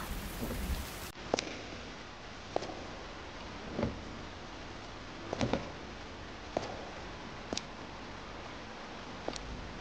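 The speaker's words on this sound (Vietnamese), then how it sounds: "Mưa rồi sao?" Steady rain falls throughout, a continuous hiss with scattered sharper drips and ticks of drops landing on a surface, heard alone without voices.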